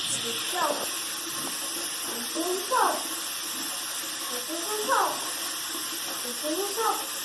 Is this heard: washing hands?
yes